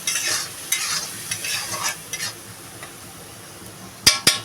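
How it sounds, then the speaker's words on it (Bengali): Spice masala with chili powder being sautéed in a pan for a Bengali pabda fish curry: a steady sizzle with stirring scrapes, then a couple of sharp, close utensil clanks near the end. "মশলাটা ভালো করে কষাবো"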